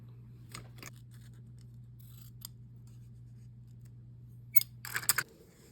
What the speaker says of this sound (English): And I cut the ribbon.